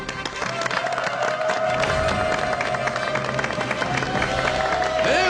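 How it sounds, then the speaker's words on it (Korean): Loud studio audience applause and cheering on a Korean health talk show as guests walk on, a dense, continuous crowd roar with a sustained tone running underneath. "박수로 맞이해 주십시오."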